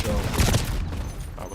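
Gunfire and explosions in a ranked online shooter match on a contested hardpoint, a dense loud burst of shots and blasts in the first half that thins out, with speech mixed in.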